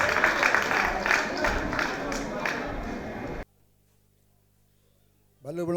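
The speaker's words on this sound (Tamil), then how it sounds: "கவி பாட வரவேற்கட்டும் உங்கள் கரகோஷம்" Audience clapping and cheering at a Tamil stage event to welcome poet Murali, a dense burst of applause that stops abruptly and then gives way to a voice starting to speak.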